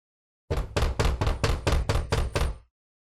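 Knocking on a door: a firm run of eight quick, evenly spaced raps, loud and close, then silence.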